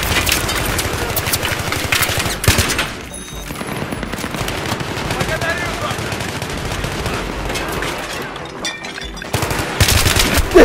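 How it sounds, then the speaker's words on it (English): Rapid video game gunfire sounds almost nonstop: dense automatic bursts and repeated shots crackle loudly throughout, with only brief lulls in between. "I shot so many bullets!"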